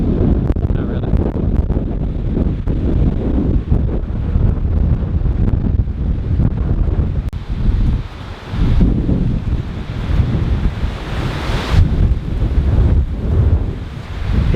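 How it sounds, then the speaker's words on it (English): Strong gusting wind buffets the microphone with a continuous loud roar up on a trail near Bridal Veil Falls outside Clark, Wyoming, swelling and dipping in waves without any speech. "It has gotten really windy up here."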